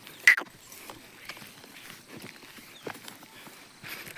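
Bull's hooves thudding on the ground in slow, uneven steps as it is led to a tethering spot by a cattle shed on a farm, soft and close with one sharper knock.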